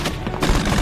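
Gunfire in a film firefight during a special forces mission, a rapid burst of shots cracking loud and close, dense and overlapping for under a second.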